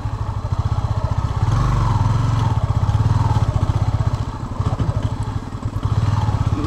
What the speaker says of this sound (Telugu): ఇది ఆఫ్ అయిపోతుంది బైక్.